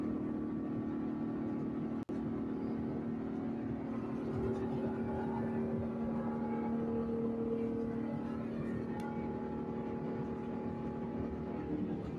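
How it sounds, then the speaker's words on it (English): Steady low engine rumble and whine inside an Airbus A350 cabin at the start of its takeoff roll, continuous and moderately loud, with a single sharp click partway through and a rising tone later. "This is inside the A350 as it's beginning its takeoff roll."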